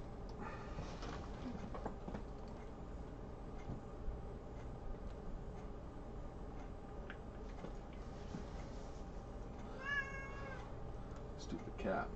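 A house cat meows once, a short wavering cry, over steady background noise and ticking during a mini helmet card break, with faint talk in the background.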